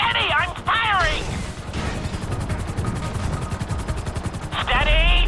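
Gunfire in the video game GTA 5: dense, rapid bursts of shots run almost continuously over a loud rumbling engine-like background, with voices talking at the start and end.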